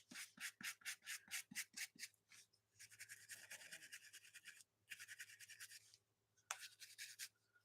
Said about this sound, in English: Scrubbing stamps.